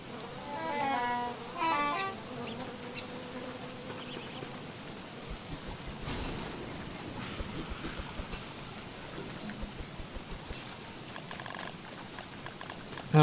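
Rain falls in the survival video game Don't Starve, a soft continuous patter heard alongside game music and scattered clicking effects, moderately quiet.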